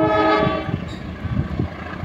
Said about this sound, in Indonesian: akan ada kereta yang melintas